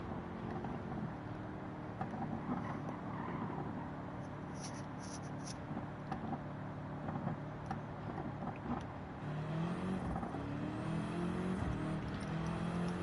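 Simulated GT3 race car in Gran Turismo 7 running on track during an online lobby race, a steady engine and tyre drone throughout with a rising gear-change whine near the end, no talk.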